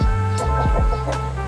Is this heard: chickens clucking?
yes